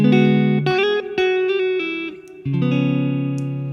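A clean electric guitar phrase from a song, a run of picked notes and a ringing chord near the end, played close and alone without talk.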